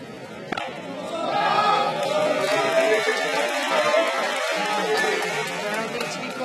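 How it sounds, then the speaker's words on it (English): Arena crowd at the 2017 Ashgabat weightlifting championships, 53 kg class, a broad, steady murmur and roar that swells early and holds at a fairly loud, even level throughout. "Crowd needs to be quiet."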